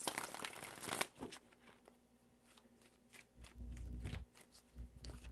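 Tarot cards are shuffled quietly up close, giving soft riffling and rustling bursts followed by faint handling sounds and light thumps.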